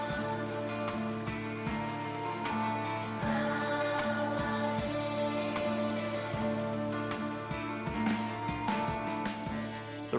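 Steady rain falls in the horror video game Silent Hill f, a continuous dense patter on surfaces that holds at a constant level throughout, alone with no talk.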